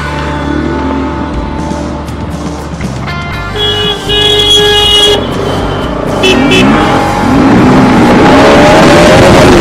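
Motorcycles, a Honda CBR 150 and a Pulsar RS200, race on a street with loud engine revving and whining acceleration, horn toots and traffic noise building toward the end.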